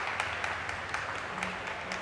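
Crowd applause at a women's 400m freestyle S9 swimming race at the 8th ASEAN Para Games, a steady distant patter of clapping with scattered sharper claps.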